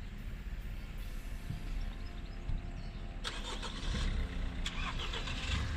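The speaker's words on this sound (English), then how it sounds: "Gentlemen, start your engines." A car engine, likely a Mini, starts up and runs at the start of an NC500 road trip, giving a steady, fairly loud rumble that swells partway through, with no talking.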